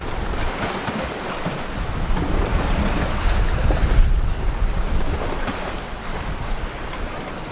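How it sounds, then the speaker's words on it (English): A sailboat running dead downwind wing on wing in about 15 knots of wind from astern, with a steady roar of wind across the microphone and waves and surf washing continuously along the hull, fairly loud with no talk. "Right now there's about 15 knots of wind coming from dead astern, so we're dead downwind, wing on wing."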